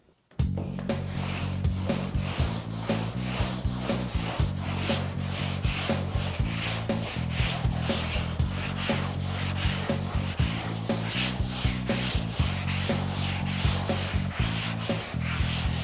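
A 16-inch sanding block loaded with 120 grit sandpaper worked by hand over a car body panel for paint prep, steady rhythmic back-and-forth rasping strokes, close and even, with no talking.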